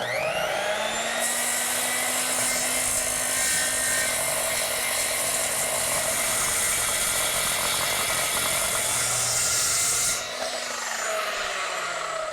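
Power saw cutting through a live edge wood slab, a loud, steady, close whine and rasp held for about ten seconds before it eases off.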